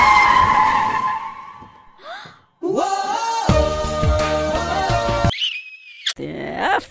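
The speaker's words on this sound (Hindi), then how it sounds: "गाड़ी लेके उसके गाड़ी में ठोक दिया" In GTA V, a car skids and rams another car: tires squeal in sharp bursts, an engine revs and growls, and the crash jolts through between short pauses.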